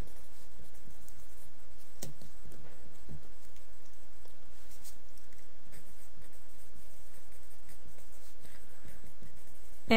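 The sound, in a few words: writing equations by hand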